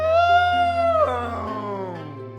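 A person's voice imitating a cat with a drawn-out, high wavering meow that falls in pitch, loud and close, heard over a steady low hum.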